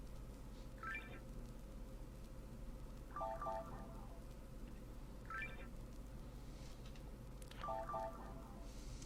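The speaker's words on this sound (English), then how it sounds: "here's this little synth pluck" A short bright synth pluck plays quick rising arpeggiated chords, four repeating phrases at a steady pace over a constant low hum.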